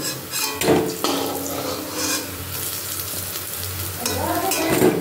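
Steady sizzling of lentil cakes frying in a pan, with occasional scraping and stirring clatters and a few louder spits of oil.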